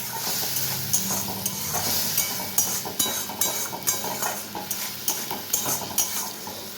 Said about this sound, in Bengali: এবার যে মশলা ধোয়া জলটা একটু দিয়ে দিলাম